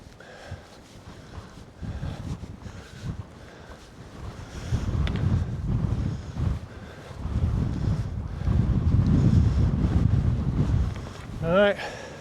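Wind gusting at a freezing wild camp on Red Pike, rushing in swells that build and strengthen over time, with brief speech faintly heard near the end.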